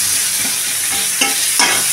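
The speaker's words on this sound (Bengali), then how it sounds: "এবার ভালো করে নেড়ে নেব।" Coriander and cumin powder, onion and ginger-green chili paste fry in a pan for a fish-head lentil dal, giving a steady close sizzle broken by several scraping stirring strokes, with no voices.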